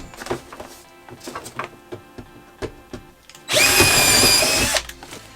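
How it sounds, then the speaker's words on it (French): A power drill bores into a wooden batten for van wall paneling: a loud, high-pitched whining burst of about two seconds, preceded by a series of light knocks and taps. "je viens percer dans le tasseau"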